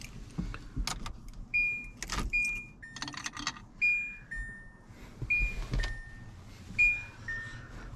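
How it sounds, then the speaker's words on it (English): Car keys being fitted into an ignition lock cylinder: a few light metallic jingles and clicks, close by, mixed with short electronic beeps and a whirring motor sound in a quiet car interior. "I'm gonna put the car keys in there."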